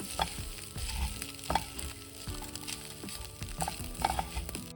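Beef fry in coconut oil being stirred and mixed in a steel pan, giving a steady close sizzle broken by scraping clinks and spatula knocks, with no talking.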